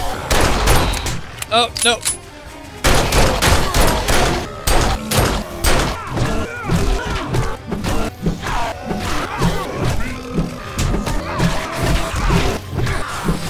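Rapid machine gun fire in the survival game 7 Days to Die during cleanup after a zombie horde, loud dense bursts of shots mixed with crashes and zombie noises, a voice speaking briefly over it.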